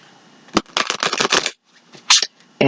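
Tarot cards being shuffled by hand, a quick run of close, crisp riffling flutters with a sharp snap at the start and a couple of louder card slaps near the end.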